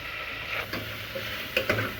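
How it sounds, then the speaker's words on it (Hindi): Spices and curry leaves frying in a pan for a mutton dish, a steady soft sizzle with a few faint clicks of stirring against the pan. "जब तक मसाले भून रहे हैं,"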